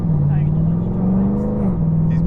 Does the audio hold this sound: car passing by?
yes